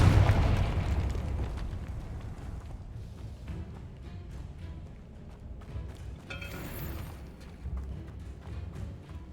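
A Confringo blasting spell detonates in a Harry Potter-style video game, a loud booming burst at the start that rolls off into a rumbling tail, followed by softer thuds and game noise.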